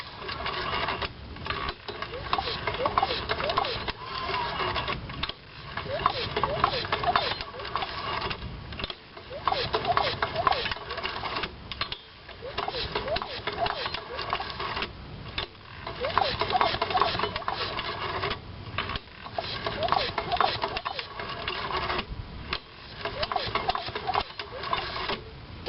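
A Lawnboy 8461 mower engine, being winterized, is pulled over slowly by hand. It makes a steady run of rhythmic mechanical clicking and clattering with brief pauses between pulls, and a voice talks over parts of it.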